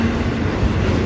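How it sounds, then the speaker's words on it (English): A freight train passing at Westmont, Illinois, a loud close steady rumble and rolling clatter of rail cars that runs through the whole short stretch. "The second train back there seems to be slowing down."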